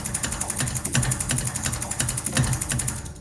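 Dry and unprocessed, the Soundiron Rust 4 Jungle Fever preset gives off a steady clattering, ratchet-like metallic texture with rapid irregular ticks, close and loud throughout.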